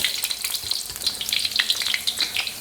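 An egg roll frying in hot oil gives a loud, busy crackle of spitting and popping bubbles that runs steadily throughout, with no voices.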